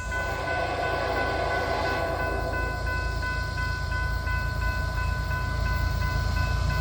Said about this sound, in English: Let's check out a couple of these fast freight trains as they run by